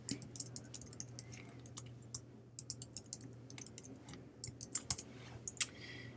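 Fingers typing a login password on a Chromebook keyboard, quick irregular clicks close by in short bursts with a brief pause, over a faint low hum.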